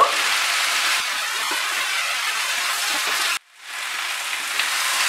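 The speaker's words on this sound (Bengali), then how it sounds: "আদার মিশ্রণটা যাতে সবজির সাথে ভালো করে মিশে যায় ভালো করে কষিয়ে নেব" Ginger paste being sautéed with cucumber and mixed vegetables over high flame: a loud, steady, hiss-like sizzle that drops out abruptly for a moment, then resumes just as strongly.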